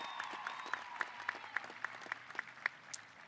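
Audience applause at a high school graduation ceremony, a steady wash of clapping from a large crowd with sharper individual claps popping out, sustained throughout at moderate volume.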